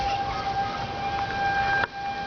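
Tornado warning sirens sound across Dallas, a steady droning wail heard from a distance that holds its pitch, then drops off abruptly near the end.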